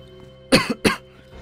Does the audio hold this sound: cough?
yes